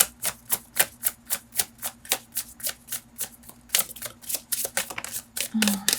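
Tarot cards riffled and shuffled by hand, a steady run of crisp, rapid flutters close up, with a faint low hum underneath and no voices.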